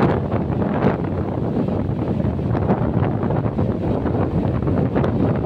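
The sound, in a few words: strong wind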